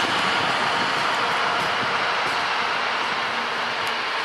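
The new CPTM 6211 locomotive rumbles steadily nearby for several seconds, a broad, constant mechanical roar with no talk over it.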